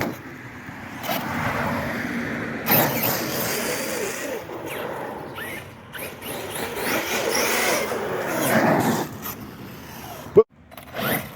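A Traxxas Sledge RC monster truck fitted with a wheelie bar drives nearby, its whining motor and gear noise rising and falling steadily throughout, with a sharp knock near the end.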